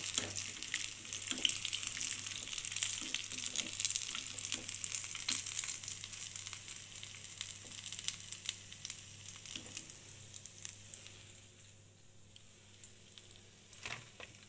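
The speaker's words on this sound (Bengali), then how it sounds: "আমি পরের ব্যাচগুলো ভেজে নেব" Food frying in a pan makes a moderate sizzle with intermittent clinks and scrapes, along with a constant low hum, and the crackle thins out toward the end.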